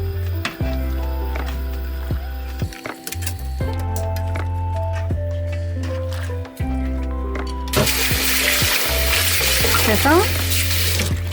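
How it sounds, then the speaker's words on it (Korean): Blanched bok choy is rinsed under cold running tap water in a kitchen, a steady close splash with clinks of dishes, and a voice speaks briefly over it. "이렇게 해서 한 30초만 담갔다가 찬물에 헹굴 겁니다."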